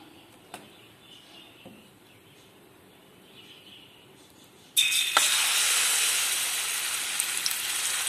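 Indari appam batter hits hot coconut oil in a pan with a sudden loud, steady sizzle partway through, following a quiet stretch with a few faint clicks.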